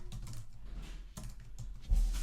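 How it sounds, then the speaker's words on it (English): Someone types on a Mac computer keyboard, with a few quick soft keystrokes in irregular bursts, close and fairly quiet, alone. "I just simply type Keyboard up here."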